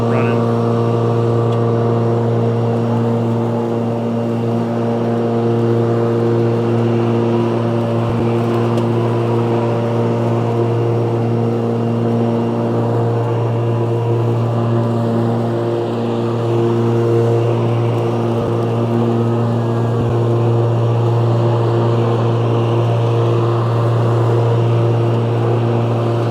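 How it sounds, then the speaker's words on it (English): SCAG EVZ electric zero-turn mower with its blade motors running, a steady, loud electric whir with a constant hum that continues unchanged throughout. "So there's the blade motors running."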